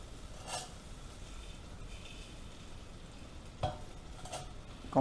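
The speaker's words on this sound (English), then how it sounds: "Gonna brown the noodles in the butter." Thin Pennsylvania Dutch egg noodles browning in butter in a pan, a soft steady sizzle with occasional light scraping stirs, no voices over it.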